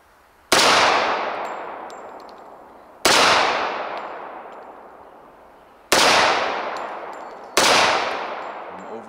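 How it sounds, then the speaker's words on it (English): Four loud, sharp pistol shots from a Sbardella full stroke Commander 1911 fired one-handed at an outdoor range, spaced a couple of seconds apart, each followed by a long ringing echo that slowly fades. "Yeah, single-handed, shooting it a little bit over the target."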